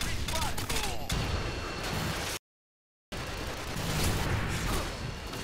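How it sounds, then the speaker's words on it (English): Dense bursts of light machine gun fire in Modern Warfare 2, rapid continuous shots that are loud and close, briefly cut to silence before the firing resumes. "Shoot it down with the LMG."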